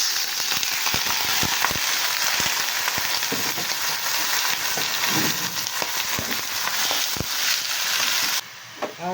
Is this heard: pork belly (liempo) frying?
yes